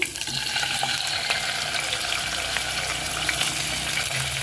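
Chicken pieces cut into long strips frying in oil with garlic, a dense continuous crackling sizzle close by, steady and loud throughout without speech.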